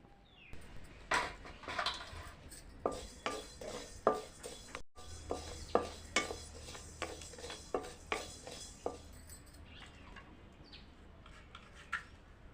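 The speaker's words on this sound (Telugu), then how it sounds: "ధనియాలు కొంచెం వేగంగానే రెండు చెంచాల మెంతులు వేసుకోవాలి" Coriander seeds and fenugreek dry roasting in a pan, heard as repeated light metallic clinks and scrapes of a spoon stirring against the pan, fairly close and moderately loud, with a steady pattern of taps and no talking.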